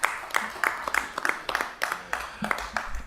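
Steady clapping from a small audience at a Gary Redevelopment Commission meeting, a brief run of fairly even claps.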